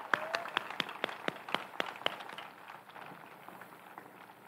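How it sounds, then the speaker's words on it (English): Applause at a high school graduation commencement, a few sharp distinct claps in an irregular rhythm that thin out and fade over a few seconds, fairly quiet in a large room. "Let's give them a round of applause for that."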